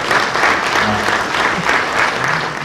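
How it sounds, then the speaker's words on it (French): Audience members at a film screening in Le Quesnoy applaud the film's composer with steady, close, full-room clapping that continues without a break. "donc je voudrais qu'on l'applaudisse également"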